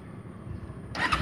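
A 2011 carburetor Kawasaki Ninja 250 motorcycle is started: low background rumble, then the engine catches abruptly and runs on at close range for the last moments.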